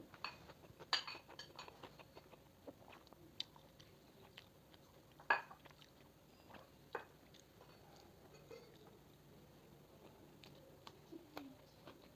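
Quiet, close eating of rice with tomato chicken and coriander chutney at lunch, with soft, irregular chewing and occasional sharper clinks of utensils or dishes against a faint background.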